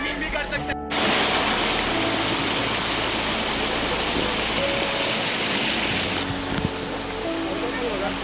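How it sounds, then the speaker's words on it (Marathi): Dhangar Waterfall near Badlapur roars steadily and loudly up close, a constant rushing wash with voices faintly beneath it. "का मस्त आहे धबधबा"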